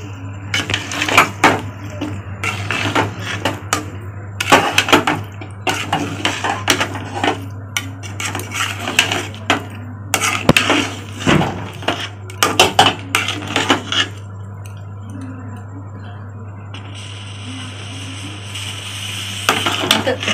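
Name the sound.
stirring semolina pudding with milk in a pan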